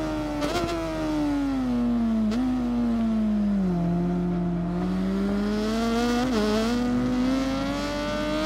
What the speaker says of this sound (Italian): Di sta moto è bello solo il motore e il sound